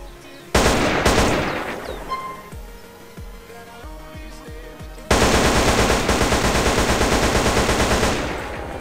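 M4 rifle fired in GTA San Andreas, loud rapid automatic bursts with a steady rhythm, a short burst, then a sparser stretch of shots, then a long continuous volley, no talk.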